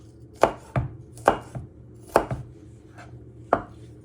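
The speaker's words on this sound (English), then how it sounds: "then you just want to finally chop it into little pieces" A knife chops ingredients on a cutting board for chicken and spinach saag, giving about six sharp, close knocks at an uneven pace with no talking.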